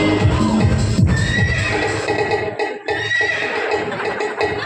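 A horse lets out loud, close neighs and whinnies, with a shaky rising-and-falling call near the start and more whinnying and snorting that continue over a noisy background.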